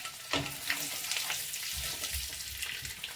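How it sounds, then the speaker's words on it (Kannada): Egg frying in masala oil in a pan while making egg curry, a steady sizzle with soft crackles running throughout at moderate level, with no talk. "ಸ್ವಲ್ಪ ಎಗ್ಗು ಬಾಡಬೇಕು, ಒಂದು 5 ನಿಮಿಷ ಸಾಕಾಗುತ್ತೆ ಇದಕ್ಕೆ"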